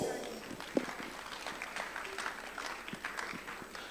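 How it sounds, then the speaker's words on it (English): Faint, distant crowd applause at a book launch event, a steady wash of many hands clapping in a large room. "Ladies and gentlemen, a big round of applause."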